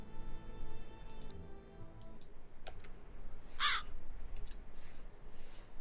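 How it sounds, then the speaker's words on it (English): Crows caw in the video game Tales of Maj'Eyal, a single loud harsh call standing out midway against soft clicking and a fading music drone. "Still birds. I can't do anything about the birds."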